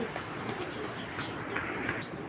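A pigeon in a loft coos softly amid a steady background hum, with faint chirps and rustling nearby.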